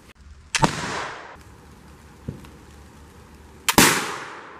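Flintlock rifles fired outdoors in the rain: two loud, sharp blasts a few seconds apart, each with a long rolling decay, and a smaller crack between them.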